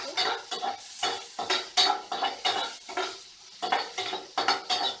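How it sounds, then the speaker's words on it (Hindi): Onions cooking over a medium flame in a pan for a Maggi sandwich, heard as repeated rhythmic scraping and clinking of a spoon against the pan with a light sizzle underneath, close and without speech. "बस हल्का सा गुलाबी हो जाए हमारे प्याज, बस उतने ही हम इसे पका रहे हैं"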